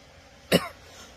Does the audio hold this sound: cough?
yes